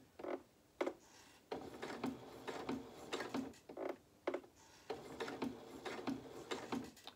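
A sewing machine running slowly in short, uneven bursts of rhythmic mechanical ticking while stitching a curved edge of polka dot fabric for a small doll dress, quiet and close, with no voices.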